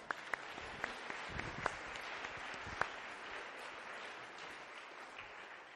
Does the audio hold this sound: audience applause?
yes